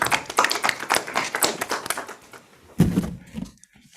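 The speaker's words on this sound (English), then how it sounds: "Another round of applause, colleagues." Attendees at an academic workshop give a short round of clapping, a few hands tapping irregularly before fading into sparse, separate claps.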